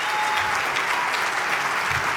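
A crowd applauds loudly and steadily during a speech by an ambassador about refugees, a thick continuous wash of clapping with no talk over it.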